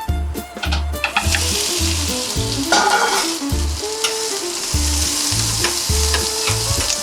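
Potatoes and onion fry in ghee in a hot pan, a loud, steady sizzle broken by repeated scraping stirs at a regular rhythm, close up with no talking.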